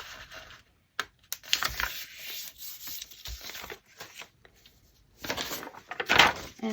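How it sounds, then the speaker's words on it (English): Sheets of paper are folded by hand for a homemade journal, giving close, dry rustles and crinkles in short bursts separated by brief pauses. "I'm going to fold this one this way."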